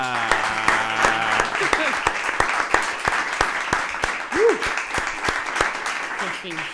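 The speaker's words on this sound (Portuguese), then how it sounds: "ajudem-me com um enorme aplauso a dar as boas-vindas à maravilhosa Carolina Pereira!" A breakfast event crowd claps to welcome a guest onstage, sharp individual hand claps standing out over a steady wash of applause, while a voice speaks over it at the start.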